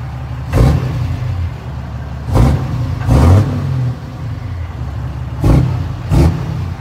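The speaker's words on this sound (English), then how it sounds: "I'm going to show you guys the exhaust." Exhaust note of a lifted, deleted 2016 Ram 2500 Laramie Longhorn with a 6.7L Cummins turbo diesel, a low rumbling idle punctuated by five short, sharp throttle blips, recorded close with no talking.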